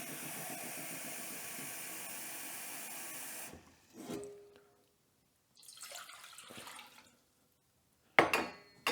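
Water runs steadily into a saucepan set on an induction cooker, a continuous faint pour for a few seconds that then stops, followed by scattered soft knocks and handling sounds.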